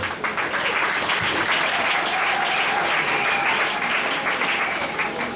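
An audience at a church investiture ceremony in Kinshasa claps loudly and continuously, a dense wash of applause that holds for the whole stretch with a faint voice beneath.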